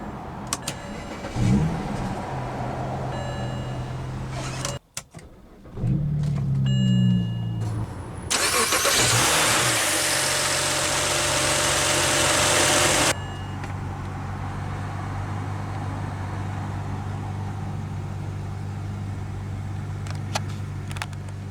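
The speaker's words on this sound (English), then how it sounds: "let's go ahead and start the engine" A 2007 BMW 335i convertible with push-button ignition starts up: a brief starter whir, a loud flare of revs that holds for several seconds, then settles into a steady, even idle close by.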